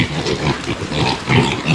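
Pigs and piglets on a farm grunt and oink loudly and close by, in rough overlapping bursts that keep coming without a break.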